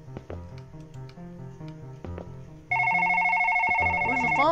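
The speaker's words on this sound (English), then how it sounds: "That's my phone." A phone rings in a video game, a loud steady electronic ringtone with sustained high tones that starts midway and continues to the end, following a stretch of game music with rhythmic low notes.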